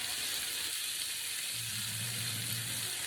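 Steak frying in a pan gives off a steady close sizzle, then a low sputter swells as a piece is turned and settles back into the hot fat.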